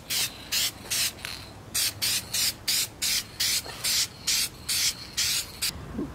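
Medium wet coat of spray paint going onto a custom skeleton primary cover for a Shovelhead chopper, heard as about a dozen short, even hissing bursts in a steady rhythm, close and fairly loud with brief pauses between passes.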